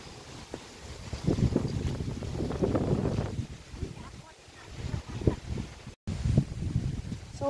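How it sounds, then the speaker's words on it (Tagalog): Strong gusting wind buffets the microphone outdoors in a cold, windy coastal spot among coconut trees, roaring steadily with rising and falling bursts throughout. "Ang lakas ng hangin, parang bagyo."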